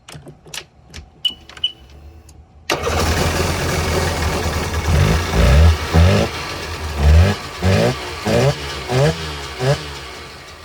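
A 2003 Sea-Doo GTI RFI jet ski engine, after a few clicks and faint taps, catches and idles roughly, then rises into a series of short, choppy revs with uneven bursts, loud and close.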